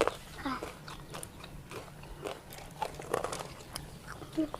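Crunching bites on crispy fried squid tail soaked in boiling fermented fish sauce, several close crisp bursts spaced irregularly, with faint murmurs of voice between them.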